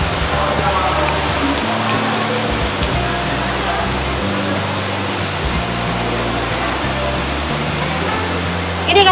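Heavy rain pours down steadily as a dense, loud hiss, while distant voices and low murmurs sit beneath the downpour.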